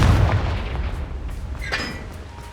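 A Confringo fire spell blast in Hogwarts Legacy, a sharp burst near the middle over a steady rumbling game background, with fainter thumps around it.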